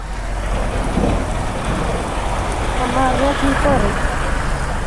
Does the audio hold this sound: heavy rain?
yes